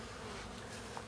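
Honey bees buzz in a steady, close drone during a varroa mite alcohol check, an unbroken hum with no voices.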